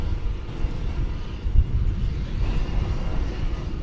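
An American Airlines jet in Medal of Honor livery rumbles at an airfield, a steady broadband engine roar with no speech, moderately close and continuous throughout.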